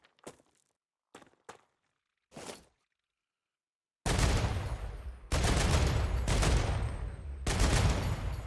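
Video game gun fire: after a few faint clicks and thuds, loud sustained bursts of automatic gunfire arrive in several long volleys, close and harsh.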